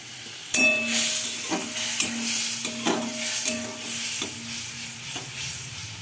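Fried cabbage goes into a hot pan for a rui fish curry with vegetables, giving a steady sizzle broken by several sharp clinks of stirring against the pan.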